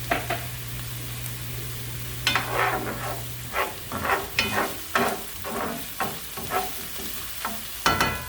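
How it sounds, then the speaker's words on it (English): Onion sautés in a pan for a creamy Tuscan chicken dish, a low sizzle under a run of repeated scraping stirs that knock and rasp at an uneven pace, close by, with a steady hum fading out early and no voices. "I just want that onion to be a little bit soft."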